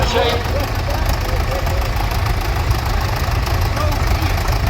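Ferguson 20 tractor, a TEA all-petrol model at a country show, its engine idling steadily with a low, continuous chugging rumble close by, muffled voices faintly underneath.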